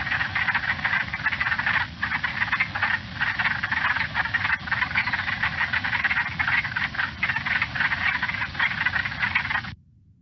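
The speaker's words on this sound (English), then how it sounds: "So this is the wood frog." Wood frogs calling from a recorded playback, a dense continuous chorus of rapid duck-like clucking croaks running steadily for about ten seconds and then stopping abruptly.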